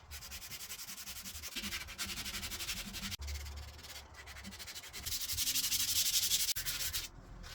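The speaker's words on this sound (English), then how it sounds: "I'm just gonna sand down kind of the thicker parts" Close-up hand sanding of the thicker parts of a wooden toddler rocker, with rhythmic strokes of rough, hissy scraping that rise and fall in bursts and a few brief pauses, and no talking.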